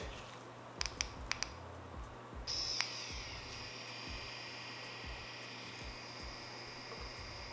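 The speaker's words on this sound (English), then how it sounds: "So this is the Mummy Anubis running at 5 volts." Wireless Mummy Anubis tattoo machine running at 5 volts: a few faint clicks, then a quiet, steady high-pitched motor whine that carries on alone in a hushed room.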